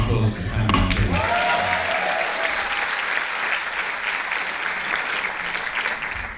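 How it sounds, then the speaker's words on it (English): Audience applause at a live beatbox performance event, sustained clapping from a crowd that swells quickly and holds steady for several seconds before tapering, with no talk over it. "Round of applause for the cameraman, please."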